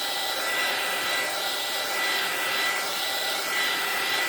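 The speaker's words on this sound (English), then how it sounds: "I'm going to go full blast with the heat gun" A heat gun runs at full blast during decoupage work, a loud steady hiss of blowing air with a gentle rise and fall as it moves, and no talk.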